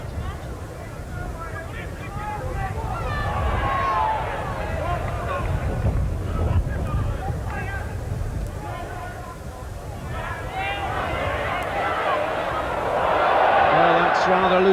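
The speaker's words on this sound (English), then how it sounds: "just showing the strength of this wind here at Wilderspool" Strong wind buffets the microphone at the Wilderspool rugby ground during a Warrington v Wigan match: a steady, loud low roar that swells near the end, with faint crowd babble underneath.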